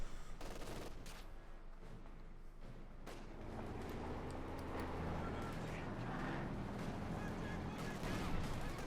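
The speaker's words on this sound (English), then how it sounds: "firing its 75mm cannon" Battle fire in the strategy game Company of Heroes 2, with several sharp shots and booms early on, including a tank's 75mm cannon, then a rumbling engine drone, all beneath a commentator's voice.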